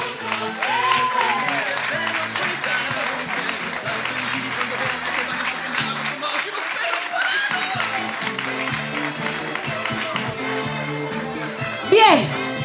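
Sustained applause from a crowd, steady and fairly loud throughout, with some cheering and music mixed in.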